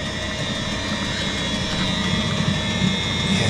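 Eberspacher D9W diesel heater running steadily, a continuous whooshing combustion roar with a low rumbling flutter, close and even throughout with no talk.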